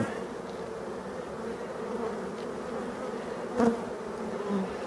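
Bees buzz steadily around abandoned beehives in a forest, a continuous droning hum of many insects with a brief louder pass close by near the end.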